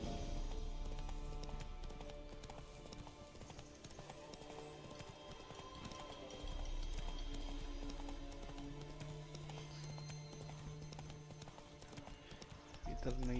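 Horse hooves clip-clopping in a rhythmic gallop in the video game Witcher 3, steady and fairly close, running under game music with a brief whinny.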